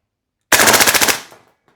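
An EMG CGS DDM4 PDW airsoft rifle fed by an MWS magazine fires one short, loud, rapid burst of about ten shots at a fairly high rate of fire, then the sound cuts off and fades into a brief mechanical tail.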